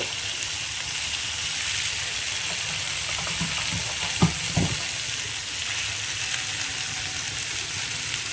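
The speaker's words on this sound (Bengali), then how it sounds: "সেদ্ধ করা আলুগুলো ভালো করে মিশিয়ে নেব" Boiled potatoes being stirred into a sizzling prawn chop filling in a pan, a steady frying hiss with a short cluster of spoon scrapes and knocks midway.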